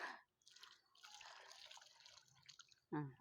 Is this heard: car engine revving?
no